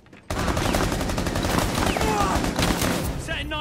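A loud, dense volley of gunshots in Rainbow Six Siege starts abruptly and keeps up as continuous rattling fire. Faint voices sit beneath it.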